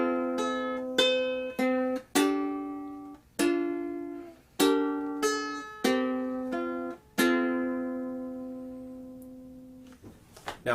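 Ukulele plays a short passage of In the Bleak Midwinter, plucked notes and chords ringing out one after another at a slow, steady pace, close and clear, ending on a long sustained chord.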